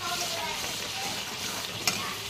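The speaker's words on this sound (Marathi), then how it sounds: "हे 2 मिनिटं परतून घेते." Chicken with ginger, garlic and coriander paste sautéing in a pan for a Marathi green chilli chicken, a steady close sizzle and crackle throughout with one brief sharp clink of a spoon near the end.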